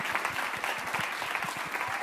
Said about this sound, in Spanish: Un aplauso gigantísimo para la superorquesta y para el maestro Odilon